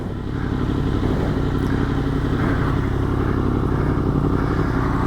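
A Yamaha FZ-10 motorcycle engine runs at a steady idle or low speed with a deep, constant throb and some mechanical clatter, heard close and loud.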